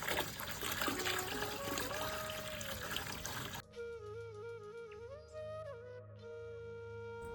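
Water runs from a tap into a container for rinsing a vetiver root garland, first a broad rushing splash, then a higher ringing fill tone as the vessel fills, close and continuous.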